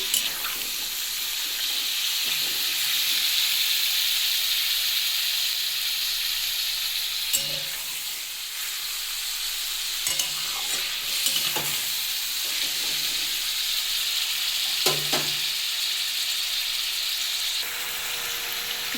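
Chicken pieces fry in a hot pan with a steady, broad sizzle lasting throughout, broken by occasional scraping stirs of a spatula close by; no talking.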